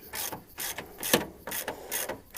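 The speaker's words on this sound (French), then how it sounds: "on les dessert au cliquet avec la douille de 18" Close, rapid bursts of ratchet clicking come from a ratchet with an 18 mm socket loosening wheel bolts. The bursts repeat in an uneven rhythm with no talking.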